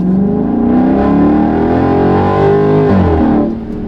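A Dodge Daytona 392 on a rainy road accelerates hard, its V8 roar climbing through the revs loud and close for a few seconds before easing.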